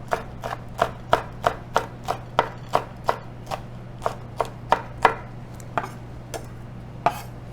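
A knife chops Cheongyang green chilies and red chili peppers on a cutting board: around twenty crisp, evenly spaced strikes, close and steady, over a faint low hum, with no voices.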